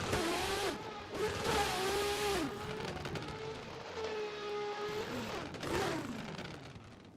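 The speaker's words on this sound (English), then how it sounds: "These cars actually sound like machine gun." Virtual race cars drift at Yas Marina in a video game, engines revving hard and rattling like gunfire, with rising and falling pitch, tire squeal and steady loud engine noise throughout.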